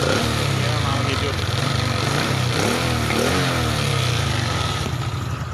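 Honda Supra X 125 motorcycle idling after a kick-start, a close, loud, steady rhythmic engine putter running continuously throughout.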